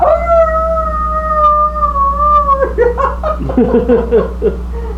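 A stage actor in a theatre play imitates a wolf with his voice, giving one long, sustained, wavering howl for a few seconds. Close-up chatter and laughter then break in.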